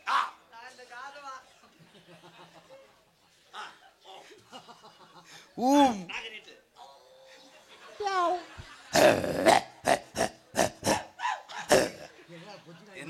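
A person imitates a dog with growls, whines and short bark-like yelps, mixed with chuckling, laughter and talk; sharp bursts crowd together near the end.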